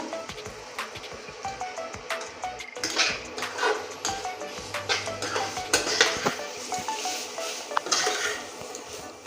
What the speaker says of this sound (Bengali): এবার গরম মশলা দিয়ে আরো সুন্দরভাবে নাড়তে থাকবো